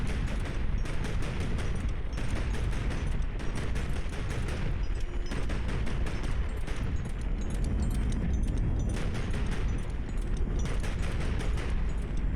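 Rapid gunfire and explosions from enemy ships in the video game Highfleet, a dense, constant barrage of sharp bursts and booming impacts with no pause, loud and close.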